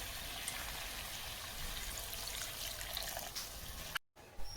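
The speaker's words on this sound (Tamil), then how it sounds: "இப்போ தான் தண்ணி ஊற்றுவோம்" Water poured into a pan of roasting chicken chukka gives a steady, close pouring and sizzling wash that runs for about four seconds, then cuts off abruptly.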